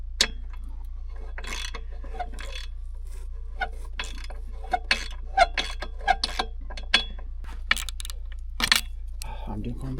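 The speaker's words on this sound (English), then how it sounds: "I'm going backwards again because I flipped my wrench" A ratchet wrench turns a bolt on a broken snow plow, a string of light clicking and jangling taps of uneven rhythm over a steady low hum, close by.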